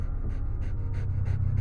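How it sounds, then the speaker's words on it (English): Close, rhythmic panting from a dog after an attack in a horror audio drama, about eight quick breaths in under two seconds, loud and alone. "The dog backed up, panting, getting its breath back."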